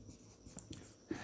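A pen writes on paper while a trigonometry proof is worked out, making faint short scratching strokes in a quiet room.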